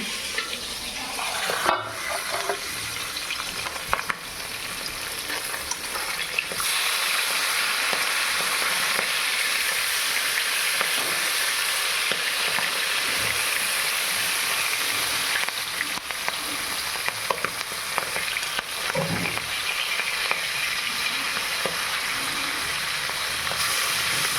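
A fish frying in oil in a pan, a loud, steady close-up sizzle running throughout, with occasional clicks and small knocks of handling over the constant hiss.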